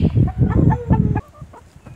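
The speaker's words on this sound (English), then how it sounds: "looks like the chickens are already loose since Brooke fed a rabbit" Loose farmyard chickens cluck in a garden in close, repeated bursts that are loud at first and then drop to softer, scattered clucks.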